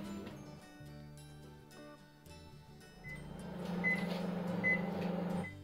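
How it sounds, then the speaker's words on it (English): A microwave oven hums steadily, its drone growing a little louder partway through, with a few faint high beeps near the end. "then put it in the microwave for about 10 minutes"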